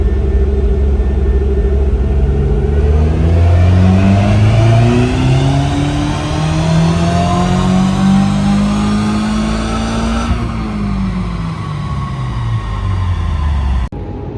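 A Subaru WRX with an FA20 engine makes a loud dyno pull, its exhaust rumble climbing steadily in pitch through the revs before a quick drop as the throttle closes, close up and uninterrupted.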